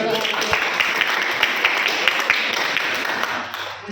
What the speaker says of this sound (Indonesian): Jadi tepuk tangan dulu dong.